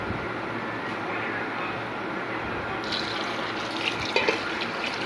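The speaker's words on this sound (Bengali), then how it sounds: "এবারে আমি জল দিয়ে দেব।" Cold water poured into parboiled rice in a pot while making prawn pulao, a steady close splashing fill that runs throughout and brightens toward the end, with no talk.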